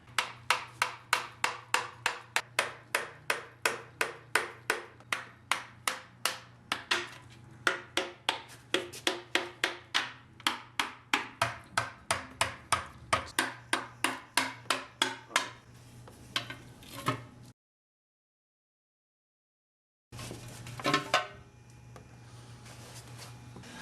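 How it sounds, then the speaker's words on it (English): A gasket scraper worked around the engine oil pan of a Nissan 240SX, making quiet, evenly paced scraping strokes that repeat for about fifteen seconds, then break into a short silence before a few more scrapes. "you want to take your scraper, your gasket scraper,"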